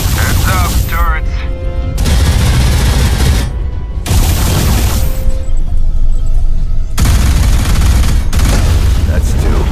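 Turrets in the sci-fi shooter Alien Rage open fire in loud, dense bursts of rapid gunfire and booms, broken by short pauses, with a voice heard between volleys.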